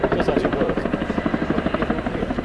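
A Royal Air Force Boeing Chinook HC.6 helicopter flies a display at RIAT 2025. Its loud, steady twin-rotor thudding beats in rapid rhythmic pulses throughout.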